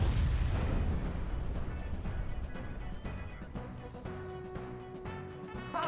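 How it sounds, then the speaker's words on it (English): In the AI: The Somnium Files video game, explosives detonate inside a body: a loud, rumbling blast that decays slowly into crackling debris and a lingering low roar, with no talk. "Sometime later, the burning fuse inside the body reaches the explosives."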